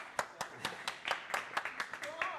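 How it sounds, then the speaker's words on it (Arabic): Sharp, distinct claps at a steady, slightly uneven beat, about ten of them at moderate distance, with faint background voices beneath. "صفقوا"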